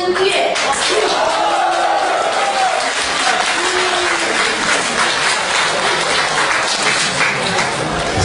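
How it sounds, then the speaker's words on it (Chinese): Sustained audience applause at a live Chinese crosstalk (xiangsheng) show, loud and steady for the whole stretch, with some cheering and crowd noise mixed in. "谢谢大家的热情掌声。"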